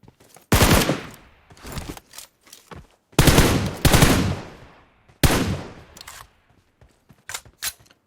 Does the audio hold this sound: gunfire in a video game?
yes